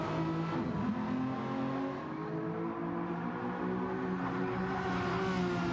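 Race cars battling in Gran Turismo 7, with steady, dense engine whine and shifting revs from several cars running close together, loud and continuous, with no speech.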